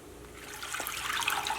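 Water with broccoli pours into a bowl in a home kitchen, a brief close splashing trickle that swells over about a second, with no talk.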